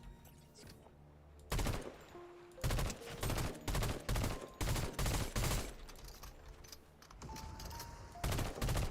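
Bursts of gunfire from a gun in Fortnite, loud repeated shots in short clusters with brief pauses between them, no talking over them.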